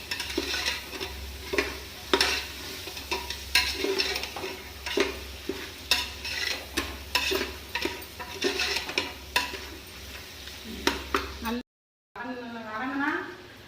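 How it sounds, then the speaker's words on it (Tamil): Vegetables for parupu saatham (dal rice) sauté in a pan with rhythmic scraping and clattering stirs over a continuous sizzle and low hum, and a voice is heard briefly at the very end. "இதுக்கு மேலே வந்து காய போடணும் காய் வதக்கணும்"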